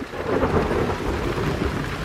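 Low rumbling thunder with steady rain falling in a thunderstorm outdoors, a continuous wash of sound with the rumble fairly close.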